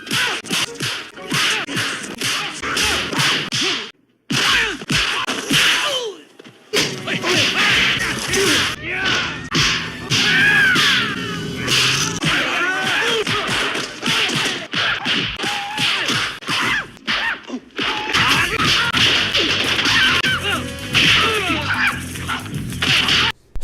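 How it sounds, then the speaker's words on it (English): Cheap kick and punch sound effects from a kung fu movie: rapid, sharp whip-like thwacks and smacks in dense bursts, loud and close, with brief pauses and martial arts shouts mixed in. "the cheap kick and punch sound effects that are heavily used throughout the movie"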